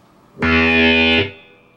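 A heavily distorted electric guitar strikes its open sixth string once in a riff, a loud buzzing low note held for under a second and then muted, leaving a faint hum.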